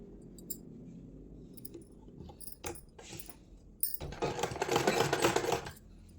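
Sewing machine stitching the neckline of a blouse, starting with scattered light clicks and then a loud, steady mechanical whir, close up and with no speech.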